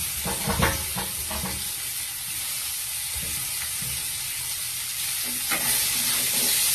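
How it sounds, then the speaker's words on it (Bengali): Onion, capsicum and chopped green chili frying steadily in a pan, a continuous sizzle with a few scraping stirs near the start and end, close and fairly loud, no talk. "এবার ভালোভাবে ভাজতে দিতে হবে পেঁয়াজ ক্যাপসিকাম কাঁচা লঙ্কা কুচি"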